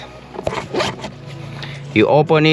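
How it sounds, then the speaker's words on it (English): A zipper on motorcycle trousers is pulled open in two quick, close rasping strokes, with rustling fabric before it. "you have here the possibility to open a zipper if you have a larger boot"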